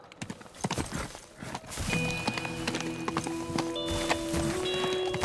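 Horse hooves in the voxel video game Teardown, a brisk run of hollow clip-clop strikes close by over a droning game soundscape with sustained musical tones.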